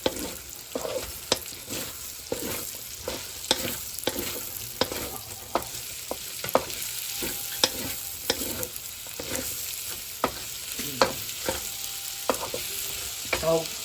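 Onions being stirred and sautéed in a sizzling pan for pinakbet, with a spatula scraping and tapping the pan in a fairly regular rhythm over a constant frying hiss, close up.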